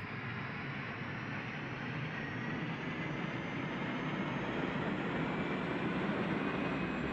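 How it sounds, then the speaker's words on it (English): A simulated Boeing 747 auxiliary power unit in an iniBuilds flight simulator sound pack, heard as a steady broadband roar with a faint whine that rises slightly in pitch while it runs alone. "The APU startup and idle"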